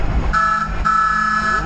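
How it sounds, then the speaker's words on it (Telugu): Two loud, close honks sound from a car horn on a drive through Araku Valley, one short and one longer, over low engine rumble. "హారన్ కొట్టి వెళ్తున్నా నేను"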